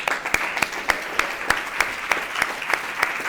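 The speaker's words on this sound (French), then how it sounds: "Je pense qu'on peut applaudir une dernière fois tous les élèves." Audience applause for students at the close of a high school eloquence contest, steady clapping with sharp individual claps cutting through a dense wash, fairly close and loud throughout.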